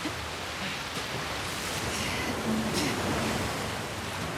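Ocean waves and surf in The Last of Us Part II wash in as a continuous broadband roar, steady and fairly loud, with no voices.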